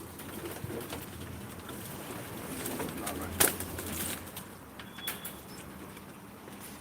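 Pigeons coo softly in a loft among steady rustling and scratching, with one sharp clack and a brief burst of wing movement midway, and someone speaks briefly.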